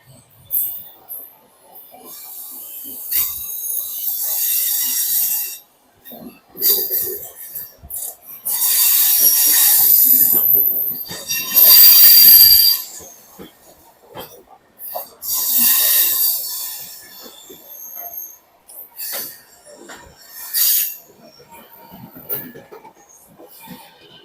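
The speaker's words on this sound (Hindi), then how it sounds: "प्लेटफॉर्म नंबर 3 पे कोई एक्सप्रेस ट्रेन आई है, देखिए" A Howrah–Ahmedabad express train pulls into platform 3 at Bharuch station, sending loud bursts of hissing and squealing that come and go in uneven waves, separated by short quiet gaps.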